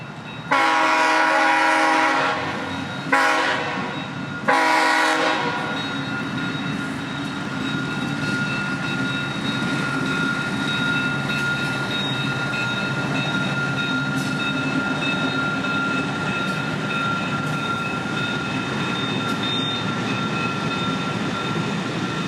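An inspection train on the old Seaboard Brooksville Sub line sounds two long, loud horn blasts close by, then rolls on with a steady rumble and a high whine lingering for many seconds.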